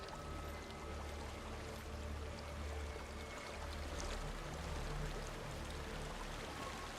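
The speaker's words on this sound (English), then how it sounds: "There's a waterfall." A waterfall in the video game Hellblade: Senua's Sacrifice pours in a steady, dense rush of falling water that holds at an even level throughout, with no voices.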